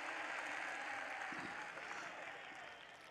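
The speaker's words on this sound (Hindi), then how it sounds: "एक बार जोरदार ताली बजाए हमारी बहनों" Audience applause at a mushaira, a short burst of clapping from a crowd that swells and then fades over a few seconds.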